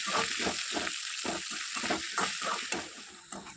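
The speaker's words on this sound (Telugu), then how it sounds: "మిగిలిన ఆయిల్లో మిగిలిన బెండకాయలు వేసి మళ్ళీ ఫ్రై చేసుకుందామండి" Okra (ladies finger) sizzles in hot oil, a steady close bright hiss with soft bubbling and faint stirring pulses, and no voices.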